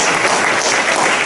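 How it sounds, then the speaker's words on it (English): An audience at an SDCIA meeting claps for the sponsors in a brief, dense burst of applause with no talking over it. "Give all the sponsors a big applause while we pull up their slides,"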